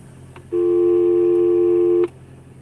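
A phone keypad is pressed to dial a number that opens a gated community's gate, producing a single loud, steady electronic tone held for about a second and a half against quiet background.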